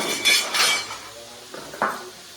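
A spoon scrapes and clinks against a pot while bottle gourd and tomato curry is mixed, a few quick metallic knocks up close, then softer taps.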